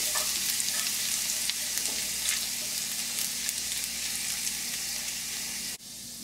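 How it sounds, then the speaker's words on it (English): Minced garlic frying in a pan while being stirred, a bright steady sizzle with light scraping that runs evenly before cutting off abruptly near the end. "I'm just going to let this go for a couple of minutes, stirring it until it starts to brown"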